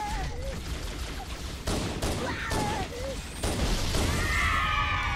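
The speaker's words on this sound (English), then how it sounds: "Now the pistol." A few loud pistol shots crack out in separate bursts during a Halo co-op campaign on Legendary difficulty, mixed with other game noise and a voice talking.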